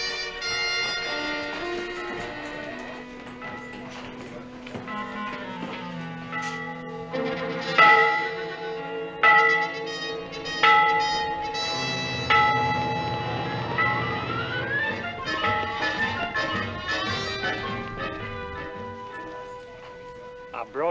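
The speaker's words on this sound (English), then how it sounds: "It sounds like a bell." A bell rings with clear sustained metallic tones that strike repeatedly with long ringing decay, mixed with a tune-like layered pattern, fairly loud and steady for the whole stretch.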